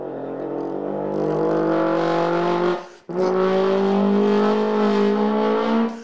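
A trombone imitates a Formula 1 race car, holding a loud buzzing engine-like drone that rises in pitch, breaks off briefly for a breath, then returns and climbs again like a car upshifting through gears, played alone and close.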